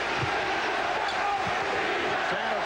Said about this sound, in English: Defense from the crowd.